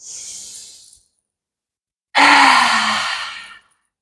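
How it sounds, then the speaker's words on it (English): Deep yoga breathing during a throat chakra practice: a soft breathy exhale fades out, then after a short silence a louder, fuller inhale with a slight voiced sigh runs for over a second, close and with no other sound. "as we inhale and exhale, let it go"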